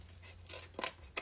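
A few quick, close snips of scissors cutting away a small piece of paper, three or four short crisp clips in a quiet room.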